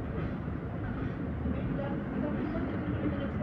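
A steady low rumble of rail cars rolling by at Ridgewood, New Jersey, on a cold day as three trains meet, fairly even and moderately loud, with faint clatter throughout.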